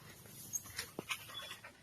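A dog pants close by in a few quick, breathy bursts, with faint background noise between them.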